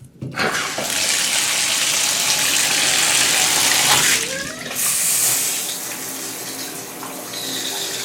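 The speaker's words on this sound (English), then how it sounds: "Okay, the shower head works." Water pours loudly from a shower head in a Hampton Inn & Suites hotel bathroom, a strong steady spray that dips briefly midway, then continues at a slightly lower, changing level.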